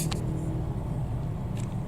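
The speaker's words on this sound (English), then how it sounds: "Morning traffic." Morning road traffic in northern Thailand heard as a low steady rumble of passing engines, likely from inside a moving vehicle, with faint higher hiss bursts and no talking.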